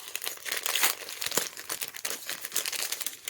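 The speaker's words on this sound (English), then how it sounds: "Sorry about all the rustling if that's a bit loud." Small plastic bags taken from a parcel crinkle and rustle up close in short, uneven bursts, with quiet crackling and no voices.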